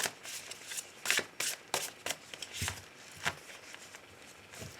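Tarot cards being shuffled for a love reading, a run of close, quick riffling and sliding bursts in an uneven rhythm, with no voice heard.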